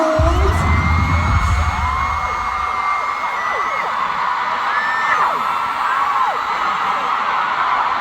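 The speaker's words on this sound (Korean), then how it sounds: "나 오늘 이 함성이 너무 마음에 들어 다시 한번 소리 내주세요" Concert crowd at a j-hope solo show cheering and shouting in a sustained roar, with whoops and higher cheers rising over the dense wall of voices and a low rumble fading early on.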